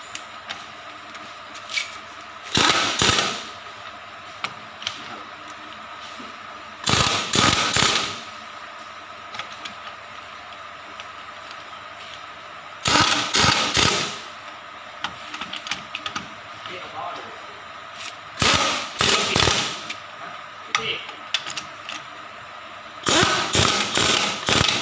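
A pneumatic impact wrench in short repeated bursts tightening a car's front wheel nuts during brake work, five loud rattling volleys of about a second each, close up with steady background hum between them.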